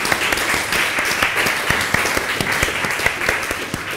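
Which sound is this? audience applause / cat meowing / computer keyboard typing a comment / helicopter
audience applause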